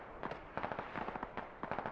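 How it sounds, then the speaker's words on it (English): A mortar strike hits a building in a military shooter video game, heard as a rapid, fairly close series of crackling blasts and pops in uneven bursts with no talking. "And we got another mortar strike in on a building."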